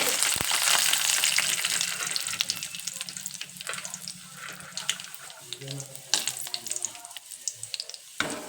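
Chana dal, urad dal and peanuts sizzling in hot oil in a pan, a steady close frying hiss with occasional clinks and stirring, no talking.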